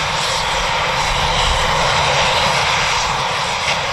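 Eurofighter Typhoon jet engines roar steadily at RAF Lossiemouth as aircraft wait for departure clearance, a loud, continuous broadband rumble with no voices.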